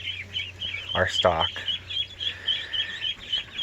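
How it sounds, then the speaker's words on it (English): Young Swedish ducks, true black and blue Swedish hatchlings, chirp steadily in high, busy peeps close by, while a person talks over them. "there's a few Swedish ducks in here. These are all ducks that we hatched."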